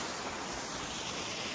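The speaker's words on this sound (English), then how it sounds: "And yeah, good waterfall here." Lands Run Falls in Shenandoah National Park in January, a steady dense rush of falling water that fills the air evenly, close and constant, with no voices.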